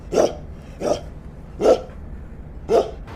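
Dogs bark four times in a jackal-chase story scene, sharp separate barks spaced about a second apart over a low background hum.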